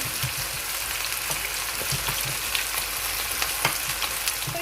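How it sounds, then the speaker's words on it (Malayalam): Fish frying in hot oil for a Kerala hotel-style fish fry, with a steady close sizzle and crackle throughout and small bursts of popping spatter. "ഇങ്ങനെ തന്നെ വറക്കാം."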